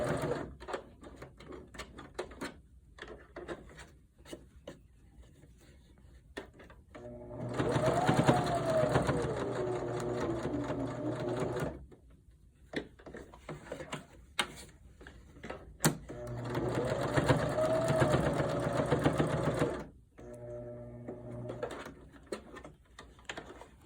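A sewing machine stitches a seam on a two-ply fabric hospital mask in two steady, close runs of rapid mechanical chatter, with quiet fabric handling and clicks in between.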